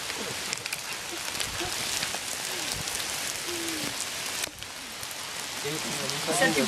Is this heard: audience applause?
no